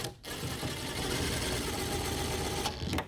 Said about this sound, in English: I'm using an impact driver because I have one, but if you don't, you can use a handheld screwdriver